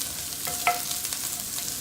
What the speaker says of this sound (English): I'm going to add the leeks to a little bit of sunflower oil